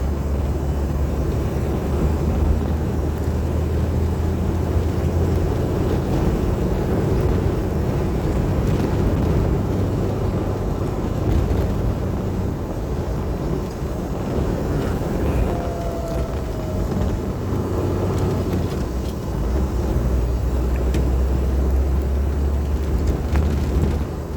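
A Jeep CJ7 drives along Highway 20 toward Fort Bragg, California, on a shakedown run. The engine and road rumble are loud and continuous, with wind buffeting throughout and no voices.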